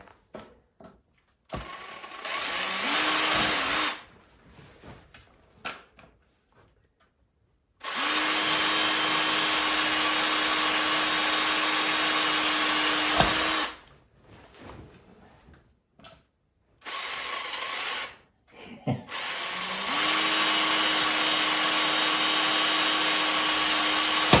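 A power drill whirs in several long bursts separated by pauses, each run steady and close, with faint handling noises between.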